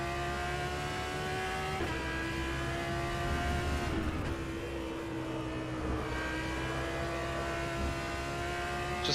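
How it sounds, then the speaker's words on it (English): The V10 of an Audi R8 LMS GT3 in rFactor 2 at Spa-Francorchamps holds a loud, continuous drone, rising and falling through gear changes with a brief dip mid-clip. "And of course meld away with a"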